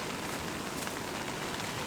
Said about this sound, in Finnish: Täällä meidän retkikunta on nyt sateessa sitten taas.